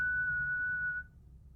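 A single steady, high whistled note held by a person for about a second, then cut off abruptly, leaving faint low room rumble.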